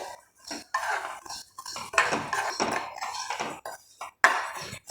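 A metal spoon scrapes and clinks against a pan while lentils fry, several uneven stirring strokes with brief pauses, close and clear with no speech.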